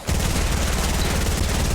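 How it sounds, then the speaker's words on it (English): Video game gunfire, a dense, continuous rattle of rapid shots that sounds like a machine gun, loud and unbroken throughout. "Yo, bro, they're shooting at you."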